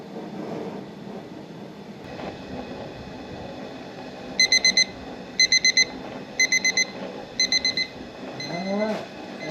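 A cooking timer alarm beeps in four short bursts of rapid tones while a shrimp boil stew cooks outdoors, with a steady background rumble.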